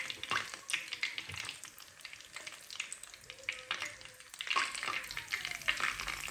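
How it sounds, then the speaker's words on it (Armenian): Milk pancake batter sizzles and crackles steadily in a generous layer of vegetable oil over moderate heat, with scattered sharp pops and brief utensil clicks close by. "հիմա տեղափոխում բուսայուղի մեջ, բայց շատ բարձր կրակի վրա չեմ տապակի"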